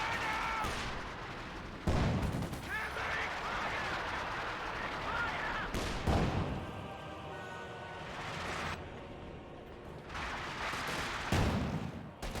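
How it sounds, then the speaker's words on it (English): Machine gun fire and other battle sounds in a Company of Heroes 2 World War II match, with loud sustained bursts of gunfire broken by sharper impacts, running under a commentator's voice. "Cal firing away, suppressing down the Sturm Pioneers"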